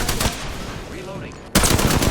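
Automatic weapon fire in Apex Legends played as Bangalore, rapid bursts of loud close shots at the start and again at the end, with a quieter stretch of echoing tails and game sounds between.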